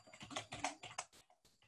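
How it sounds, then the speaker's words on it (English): Rapid typing on a computer keyboard, a quick uneven run of soft key clicks close by with brief pauses between bursts. "You type in your name"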